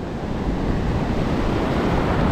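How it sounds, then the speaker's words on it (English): Surf crashing on a Delaware beach during surf fishing, a continuous loud roar of breaking waves with wind buffeting the microphone throughout and no voices. "These waves are crashing hard."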